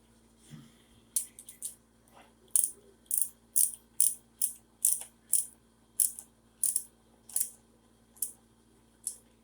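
A ratchet runs bolts in by hand on a Honda K24 engine being readied for paint. A steady series of about a dozen crisp, close metallic clicks sounds in a quiet room.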